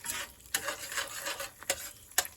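Scrambled eggs seasoned with Greek seasoning cook in a pan under a soft sizzle, punctuated by three sharp clicks of a utensil scraping against the pan; quiet and close.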